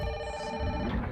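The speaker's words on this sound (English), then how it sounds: "Guys, I got a phone to answer here" A telephone rings inside the Fatal Frame: Maiden of Black Water video game, a steady electronic trill with stacked tonal bands that holds for about a second before a soft low rumble takes over.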